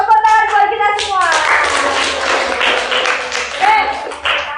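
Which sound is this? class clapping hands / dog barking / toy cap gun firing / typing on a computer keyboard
class clapping hands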